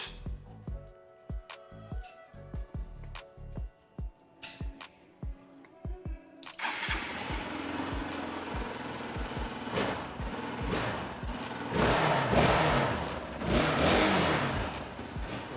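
Hero Xpulse 200 4V motorcycle fitted with a new handlebar and quick throttle: sparse ticks and clicks give way to the engine firing up, then a steady idle that rises into louder revs near the end.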